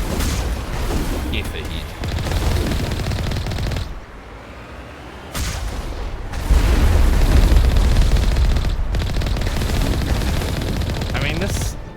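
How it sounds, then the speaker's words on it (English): Turret firing in the video game Mass Effect, loud sustained bursts of rapid gunfire and booming impacts broken by brief pauses, with a voice speaking briefly over the shooting. "That's like a turret."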